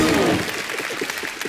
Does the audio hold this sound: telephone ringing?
no